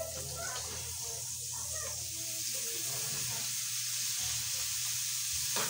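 Shrimp paste (alamang) and vegetables sautéing for pakbet give a steady, close sizzle and crackle of frying in oil, continuous throughout with faint stirring and background clatter.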